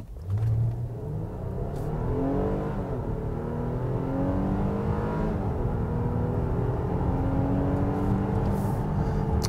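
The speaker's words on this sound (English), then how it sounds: "let's see how it accelerates here from a stop" A 2022 Nissan Pathfinder Platinum with a naturally aspirated engine accelerating from a stop at high altitude, its engine note rising steadily through several gear changes, heard from inside the cabin at moderate level.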